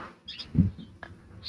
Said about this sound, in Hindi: यार ये मेरा तोता पीछे से लगा हुआ है, इसकी आवाजें आ रही है